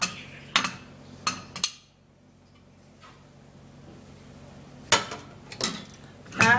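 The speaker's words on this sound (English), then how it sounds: "So I'm actually going to be breaking the egg into a bowl" An egg is cracked against a bowl and the yolk separated, with sharp clinks and taps of shell on the bowl in two clusters, near and fairly loud against a quiet room.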